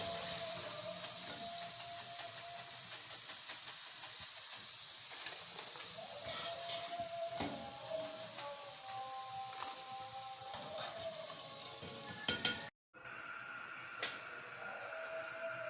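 Potato chips for French fries frying in hot oil, a soft continuous hiss and sizzle with faint bubbling, briefly cut near the end.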